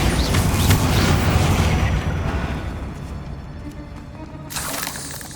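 A Bombarda spell detonates in Hogwarts Legacy with a loud, rumbling burst that rolls off and fades over a few seconds, followed by a smaller thump near the end.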